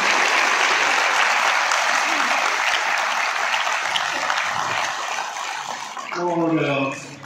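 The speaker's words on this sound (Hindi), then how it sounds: "ताली में थोड़ा दम होना चाहिए यार" Steady, dense audience applause fills a hall at an insurance agency event, then tapers off near the end as a voice begins speaking.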